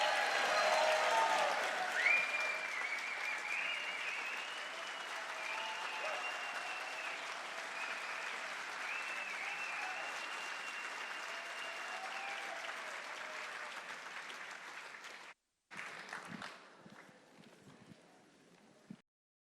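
An audience applauds and cheers at a live political event as Illinois Governor JB Pritzker takes the stage, a dense, sustained wash of clapping that cuts off abruptly near the end, then a thinner scatter of claps.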